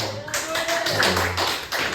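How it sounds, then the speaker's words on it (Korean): Short burst of welcoming applause for a new student in a Korean church class, a small group clapping quickly and unevenly in a room, with a voice speaking briefly over the clapping. "우리 환영의 박수로"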